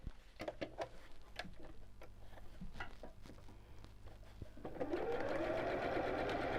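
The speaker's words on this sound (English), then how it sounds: "fold up the corners with the seams together and sew every one of these pieces" Sewing machine stitching fabric storage box pieces with a quarter-inch seam, starting as scattered taps and slow needle strikes, then speeding up into a steady, close whirring run.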